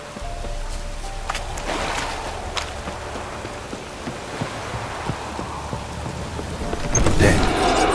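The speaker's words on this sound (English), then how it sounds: "Looks like rain." Steady rainfall patters throughout in The Witcher 3: Wild Hunt, with soft rumbles of thunder and a louder burst near the end.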